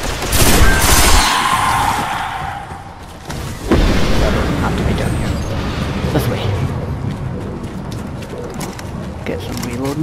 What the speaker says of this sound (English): There's someone behind me shooting.